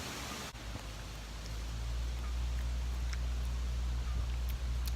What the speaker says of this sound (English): I'm having a snack and just sitting and listening at the wind blow.